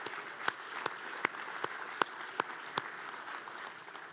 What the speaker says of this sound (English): So let's give them a round of applause as well.